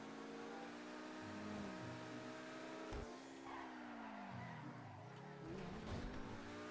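A car engine in GTA 5 Online roars steadily as the vehicle swerves through a turn, with rising and falling pitch, a sharp bump partway through and tire squeal mixed in, loud and close throughout.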